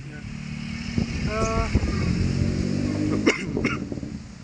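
At a car race, turbocharged cars rumble past with a couple of brief, sharp blow-off hisses near the end, while someone talks over the engine noise.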